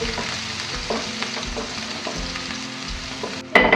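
Sliced spring onion whites sautéing in a pan for spring roll filling, a soft continuous sizzle with occasional spoon scrapes and stirs, ending in a brighter clatter.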